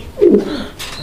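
A single low, throaty coo from a male pigeon, close and fairly loud, lasting under a second with faint background noise.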